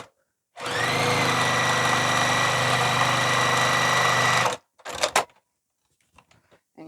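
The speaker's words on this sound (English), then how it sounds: "So let me sew this together." A sewing machine stitches fabric seams in one steady, close, humming run of about four seconds, then stops, followed by a few short mechanical clicks and handling noises.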